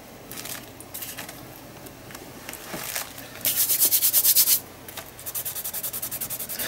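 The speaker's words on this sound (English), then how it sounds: "Because this is spirit glue, if it comes out it just rubs off." Spirit glue being rubbed off a surface, short scratchy rubbing strokes in quick bursts, with a faster run of rhythmic rubs near the end, close and quiet.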